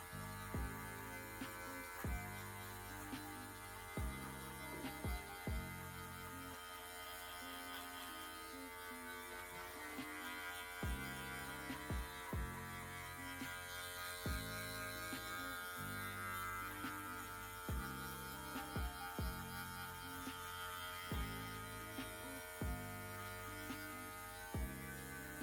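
Electric hair clipper buzzing steadily through a skin fade haircut, a continuous motor drone with brief dips and clicks as the clipper moves and changes position, fairly close with no talking.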